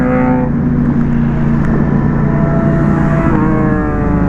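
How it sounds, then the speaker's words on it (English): A high-pitched motorcycle engine on a night ride through London, heard as a loud, steady, continuous drone with a strong tonal whine held throughout and no talking. "That bike is so high pitched."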